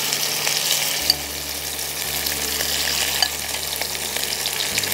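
Small mourola fish fry in hot oil in a pan with a loud, continuous sizzle. Faint clicks and a low hum sit underneath.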